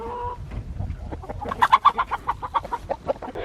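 A hen with a hurt, limping leg clucks in a run of short, close calls with a steady pulsing rhythm, following a few quieter low sounds.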